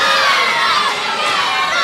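Wrestling crowd at a show in Fernandina Beach, cheering and shouting steadily with children's voices mixed in, a dense, loud, continuous wall of noise with no gaps.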